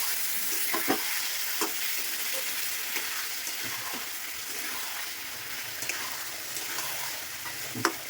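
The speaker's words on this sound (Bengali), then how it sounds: "ভালো করে মিক্সড করে দিয়ে রাখবো" Tomato paste being stirred into a frying potol and shrimp curry, a spoon scraping the pan in irregular strokes over a steady sizzle of oil.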